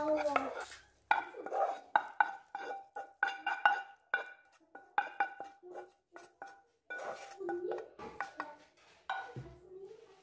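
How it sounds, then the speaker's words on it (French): Onions being stirred into a mixture in a frying pan, with a utensil repeatedly scraping and clinking against the metal in irregular strokes, close and fairly quiet, with gaps between bursts. "Je rajoute maintenant les oignons et je mélange le tout."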